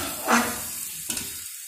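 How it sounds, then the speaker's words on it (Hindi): Bottle gourd (lauki) pieces, already lightly browned, fry in a pan for a sabzi while being stirred: a soft steady sizzle with one louder scraping stir near the start and another brief stir later, then quiet. No one speaks. "लौकी को बिल्कुल अच्छे से फ्राई करना है।"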